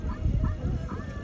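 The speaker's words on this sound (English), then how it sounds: "No, that's a dog." A big dog gives short, yipping barks and whimpers up close, loud and busy against a rumbling background.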